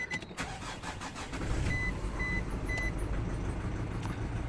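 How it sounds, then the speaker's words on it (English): Ignition on a 2007 Nissan Pathfinder with ABS and ESP faults being cycled: faint clicks and a few short electronic chimes over a low steady hum, close and quiet. "Let's cycle the ignition."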